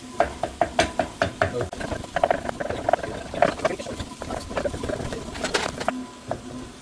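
Chopped venison ravioli filling being stirred and mushed together by hand, giving a steady run of soft wet clicks and pats close up, with no talking.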